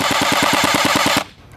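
A Sig 552 Commando gel ball blaster firing Ultra Elite gel balls in a fast, even automatic burst of about a dozen close, loud shots, stopping abruptly into quiet.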